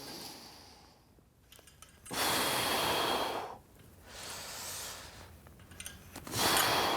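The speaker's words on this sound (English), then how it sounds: "So as I go up, I exhale, inhale" A man doing a pendulum chest press breathes hard, several forceful exhales and inhales in separate bursts, close and fairly loud against quiet gaps.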